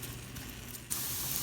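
About a teaspoon of garlic goes into onions caramelizing in a pan, and a steady hiss suddenly swells into a louder, brighter sizzle that carries on close by.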